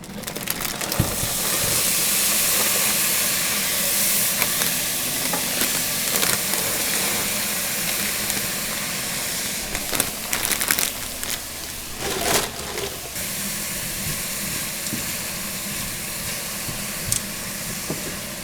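Vegetables seasoned with salt and pepper sizzle and hiss steadily in a hot pan for a chicken bowl meal prep, a continuous close frying noise with occasional clatters and no talking.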